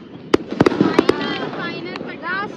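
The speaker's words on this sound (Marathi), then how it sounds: "आजच्या दिवसातला लास्ट फटाका लावतोय" A firecracker is lit and bursts with a quick series of sharp, close pops and crackles, followed by a faint fizzing tail while people talk nearby.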